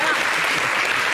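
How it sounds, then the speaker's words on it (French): A studio audience applauds during a French rap interview with Niska: steady, dense clapping, loud and close, fills the whole moment without pause. "On applaudit."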